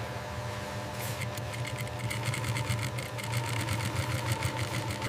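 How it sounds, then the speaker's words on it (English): A sewing machine stitches thick bison leather, its needle hammering out a rapid, steady mechanical rhythm up close, starting slightly softer before settling into a louder continuous run with no voices. "The machine stitches the thick Bison leather"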